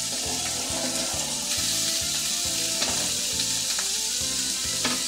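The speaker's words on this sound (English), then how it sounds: "we are going to let them saute for about 5 minutes or until they're red" Shrimp sizzle steadily in a hot pan, a loud continuous frying hiss with occasional stirring clicks and no talking.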